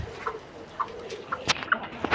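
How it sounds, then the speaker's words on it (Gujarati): A rooster and a hen feed together and give soft, short clucks at a moderate distance, about five scattered calls over a gentle ground noise. "અને કુકડો અને કુકડી અહીં ખાય છે."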